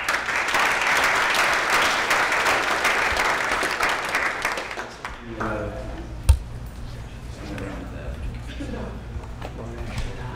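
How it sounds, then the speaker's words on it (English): An audience at a data visualization talk gives a team a brisk round of applause, dense clapping for about five seconds that stops abruptly, leaving room noise, a sharp knock and a speaker talking. "Round of applause for this team."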